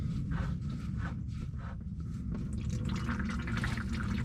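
Water drains steadily out of a compartment on a Caterpillar D7E bulldozer during servicing, a continuous trickling splash into a catch container. It stays close and fairly even, with no talking.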